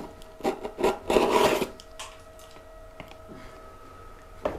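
A new cutting tool slices paper into strips, making a few close, scratchy rasping bursts that are loudest early on, followed by quieter faint clicks.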